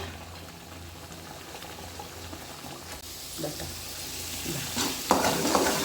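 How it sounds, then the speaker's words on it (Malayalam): Milk cream being stirred in a single pot while it cooks down into ghee, with a steady low sizzle and bubbling throughout. Sharper scraping strokes come in near the end. "കുറച്ച് നേരം ഇളക്കണം, അത്രേ ഉള്ളൂ."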